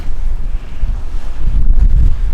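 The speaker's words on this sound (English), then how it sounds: "this wind is going to die in a couple hours" Wind gusting over a sailing catamaran at anchor in the Bahamas' Abaco Islands, a loud low buffeting rumble of wind against the microphone, continuous and close, with no voices.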